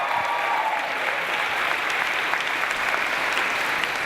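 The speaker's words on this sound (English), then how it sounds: "Give yourself a round of applause." Audience applause at a Tuskegee University baccalaureate ceremony, a broad, steady wash of many hands clapping in a large crowd, sustained at an even level for several seconds.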